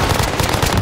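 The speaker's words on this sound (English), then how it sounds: "Tossing a frag." A frag grenade blast and surrounding gunfire in a Call of Duty match, a dense, continuous crackle of sharp bursts filling the short stretch at steady loudness with no speech.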